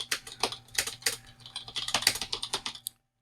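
Fast, crisp keystrokes clatter on a compact Cherry ML mechanical keyboard, a steady run of close clicks for about three seconds with no voices, ending abruptly.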